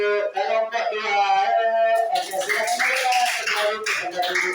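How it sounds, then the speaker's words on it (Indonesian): Students clap for a group in a classroom, with a burst of hand claps rising after about two seconds, mixed with talking voices that run throughout. "tepuk tangan untuk kelompok 2"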